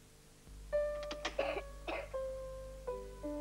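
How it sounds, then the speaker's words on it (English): A child coughs repeatedly in a 1985 television cough-medicine advert: a cluster of short, harsh coughs over steady sustained musical tones and a low hum. "When a child coughs and coughs and can't settle down"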